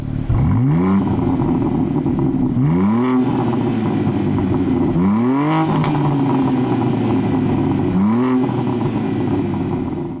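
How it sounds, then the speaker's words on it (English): A 2023 BMW M2 exhaust in sport mode roars loudly over four sharp revs, each climbing and dropping back to a deep, rumbling idle, close and heavy. "now take a listen to the exhaust in sport mode."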